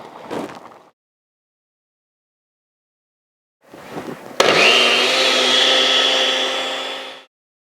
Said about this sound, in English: and blend